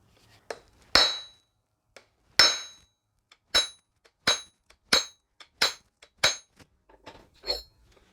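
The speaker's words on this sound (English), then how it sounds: "And then we're going to hit that with a hammer." A hammer strikes a breaker bar fitted with a half-inch socket to press a swivel hub bushing out of a Toyota Land Cruiser, giving about ten sharp, ringing metallic blows at an uneven pace, each ending in a short fading ring.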